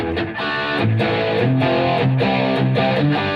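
Loud, heavily distorted electric guitar with a Super Distortion pickup playing a short sequence of sustained notes and chords, thick and fat-toned.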